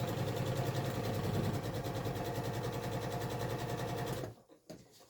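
Sewing machine stitching down the edge of a quilt, a steady, fast mechanical whir up close that runs for about four seconds before stopping abruptly.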